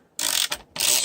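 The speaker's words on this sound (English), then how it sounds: "you can use a wrench, a screwdriver with a socket end on it. Just got to go through and remove all 4" A screwdriver with a socket end turns out screws while a climate control panel is taken apart, two close bursts of rasping ratchet clicks separated by a short pause.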